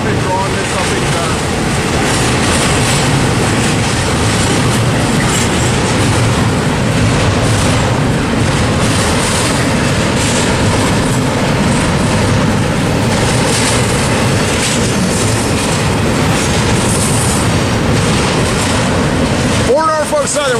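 Norfolk Southern freight train rolling past at trackside, a loud, steady rumble and rail roar sustained throughout, with voices talking over the noise.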